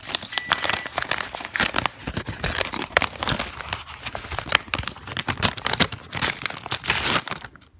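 A plastic bag that held a set of keys is crinkled and rustled continuously up close, loud crackling handling with sharp irregular crackles and no talking.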